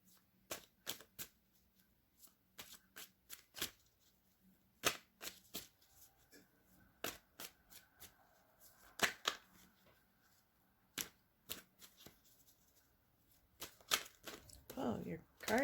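Tarot cards being shuffled, with quick crisp riffling bursts and slaps repeating irregularly, close and fairly quiet, with a voice speaking softly between them.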